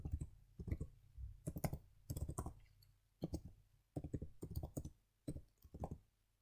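Someone types an email address on a computer keyboard, a steady patter of close, light key clicks in short runs with brief pauses, over a low background hum and with no talking.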